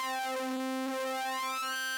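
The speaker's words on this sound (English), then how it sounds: "So you get sounds like this." Ableton Wavetable synthesizer holding a sustained buzzy tone rich in harmonics, its timbre shifting smoothly as it morphs between wavetables, heard alone and evenly loud.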